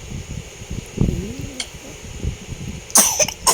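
Baby coughing in short bursts at close range, with a sharper cluster of coughs near the end, over a steady fan hum at night.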